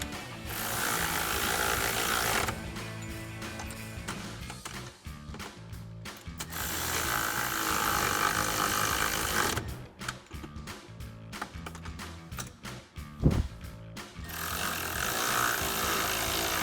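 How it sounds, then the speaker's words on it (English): A ratchet fitted with a 13mm socket tightens bracket nuts for F-150 running boards, giving bursts of rapid, close clicking broken by short pauses and a single knock. "take a 13mm socket to tighten down these nuts"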